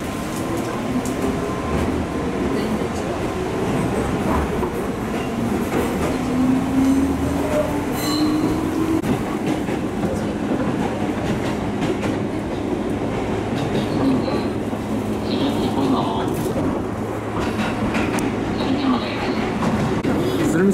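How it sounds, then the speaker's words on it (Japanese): A JR Tsurumi Line local train arrives at Umi-Shibaura station in Japan, loud and close, with a steady rolling rumble, squealing wheels and clattering rail joints for the whole stretch. "海芝浦駅下り列車の普通列車がやってきました。"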